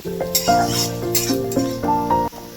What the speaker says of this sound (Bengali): পেঁয়াজ কুচিগুলো দিয়ে দেবো। আমি এই পেঁয়াজ কুচির ওপর 1 চামচ চিনি দিয়ে নিয়েছি